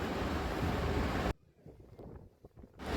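Loud, steady rush of sea surf on a beach and wind that cuts out abruptly, leaving a quiet gap, then surges back at the end.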